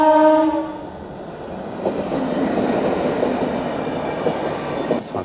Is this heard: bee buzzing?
no